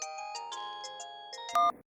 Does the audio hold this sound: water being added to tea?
no